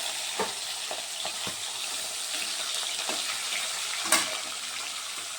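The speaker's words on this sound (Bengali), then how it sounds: "আমি মাথাগুলোকে ভালো করে ভেজে নিচ্ছি" Fish heads fry in hot oil, giving a steady sizzle with occasional stir clicks and a sharper pop near the end; the sound is close and continuous with no talk.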